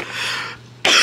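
A person with a lingering illness gives a couple of harsh, breathy coughs, the second burst loud and close, with no speech around it.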